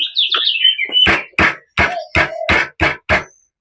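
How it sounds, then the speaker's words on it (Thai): Seven sharp knocks strike the metal frame of a folding market-stall tent while parts are fitted together, coming in an even, fairly quick rhythm, loud and close, after some brief squeaky scraping. "อืมเราเคาะนิดนึงแบบนี้นะครับ"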